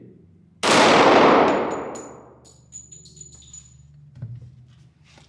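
A Glock 41 Gen 4 pistol in .45 ACP fires a single loud report that rings off a steel target and fades slowly, followed by faint metallic pings and a brief spoken word.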